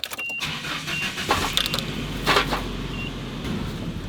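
A 1990 Nissan D21 truck engine cranks and catches after a fuel pump replacement, then settles into a steady, smooth idle close by.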